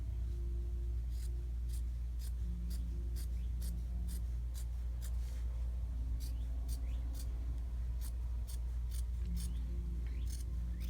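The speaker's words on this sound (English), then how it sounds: "you take your scissors and then you cut the bottom hem off like that" Scissors snip through the bottom hem of a cotton T-shirt in a steady series of sharp, close cuts over a low constant hum, with no voices.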